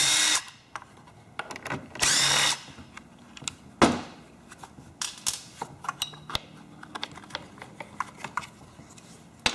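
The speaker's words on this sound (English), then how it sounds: "Remove these two screws for the cover." A power drill removes the two cover screws on a Stihl chainsaw, giving two short, loud whirring bursts near the start, followed by clicks and handling clatter from parts and tools.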